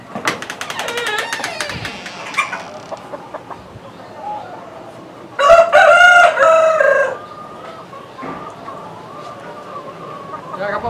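Chickens in an indoor poultry room cluck steadily while a rooster lets out one loud, close crow in the middle, and people talk quietly underneath.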